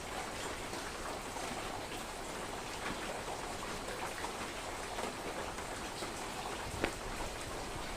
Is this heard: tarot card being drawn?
no